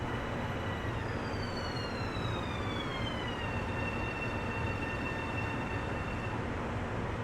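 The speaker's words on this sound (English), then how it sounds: "we're treated to the sound of M7 coming in alongside us" A train rolls in close by with a rising-then-falling electric whine sweeping over a steady rumble, loud and continuous without voices.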